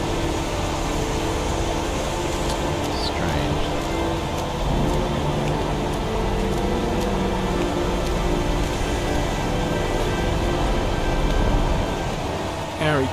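Steady rain falling throughout a scene in the video game Heavy Rain, a dense continuous hiss with faint broadband texture and occasional soft spatters, constant in level and heard alone without talk.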